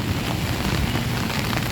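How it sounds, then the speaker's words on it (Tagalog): Steady heavy rain on the second straight day of downpour during Typhoon Carina, a continuous dense hiss and patter without pause and with no one speaking. "Pangalawang araw na umuulan."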